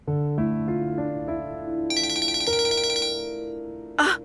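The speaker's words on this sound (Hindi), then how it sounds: "एलिफ का फोन आ गया" A phone rings with an incoming call: a melodic electronic ringtone steps through bright sustained tones, clear and close, with no voices over it and a short noisy burst at the very end.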